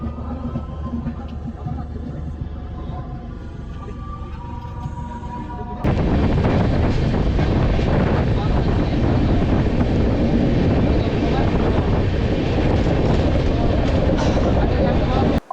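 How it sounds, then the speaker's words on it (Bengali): The 12841 Coromandel Express pulls out of platform 22 on the Howrah to Vizag route. Quiet rumbling and faint voices suddenly give way to a loud, steady roar of rolling wheels and wind rushing close by. "আজকে ট্রেনটা ছাড়লো 22 নম্বর প্ল্যাটফর্ম থেকে।"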